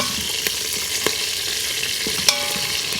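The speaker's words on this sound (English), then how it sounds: "Now that we've let this sizzle and saute for about 7 minutes" Pancetta and Brussels sprouts saute in an Instant Pot with the lid off, giving a steady close sizzle broken by a few sharp clicks and scrapes of stirring.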